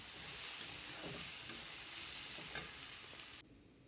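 Chopped green chili frying in a pan for a school tiffin dish, a steady close sizzle with faint stirring scrapes, cutting off abruptly near the end.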